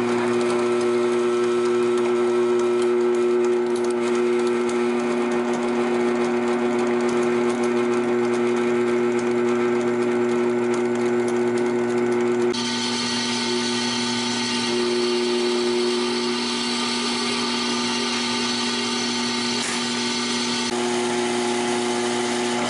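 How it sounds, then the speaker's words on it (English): Drill boring through a piece of annealed found steel being prepared for forging a knife, a steady continuous whine with constant tonal bands that shifts pitch about halfway through as the bit bites deeper, loud and close with no talking. "we'll see how easily this drill penetrates"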